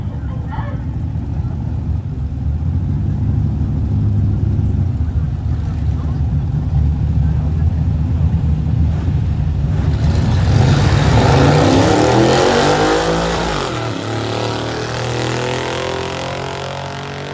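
A drag race car accelerating on a pass, a loud sustained engine roar that swells and climbs in pitch, then drops away as it fades into the distance, with a voice speaking over it.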